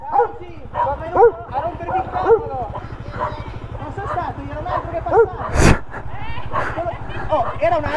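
A dog barks and yips repeatedly nearby, with excited whimpering between barks, over a steady engine drone and a sharp clatter midway.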